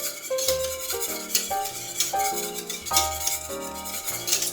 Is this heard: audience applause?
no